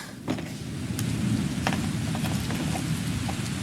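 Stage rain effect in a college production of The Glass Menagerie, a steady close hiss of falling rain with scattered sharp drips and clicks throughout.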